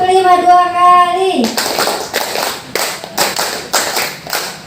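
After a brief spoken voice, hands clap a five-beat pattern twice through at a teachers' positive-school-culture session, crisp, close claps in evenly spaced groups that ring out clearly with no talk over them.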